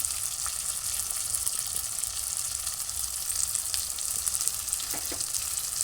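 Spices frying with potato and prawns, tomato, salt and turmeric in a pan, a dense steady hissing sizzle close by with occasional faint clinks of a spoon, no voices.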